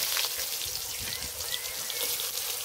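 Chopped onion goes into hot oil already cooking whole cumin for an egg and soybean curry, and it gives off a steady, close hiss and crackle that fills the whole clip with a fine, rain-like texture.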